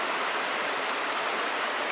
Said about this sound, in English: There's the main part of the river over here.